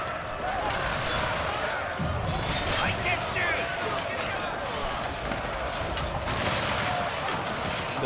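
Dense, continuous musket volleys crackle through a chaotic battle in the Shogun 2 Total War assault on Fort Wagner, the massed fire loud and unbroken with clattering impacts layered underneath.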